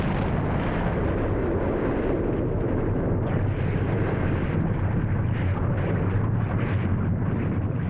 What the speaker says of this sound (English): An explosion so powerful that it blew a 32-square-mile wide crater out of the center of the island.